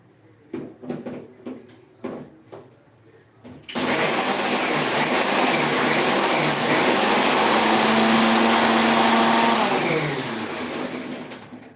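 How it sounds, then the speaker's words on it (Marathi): A kitchen mixer grinder starts up loud and steady after a few seconds of light clatter, grinding spices into a fine powder with a continuous whirring roar that eases slightly near the end. "अभी ये मिक्सर पे बारीक करना है पीस लेती हूँ"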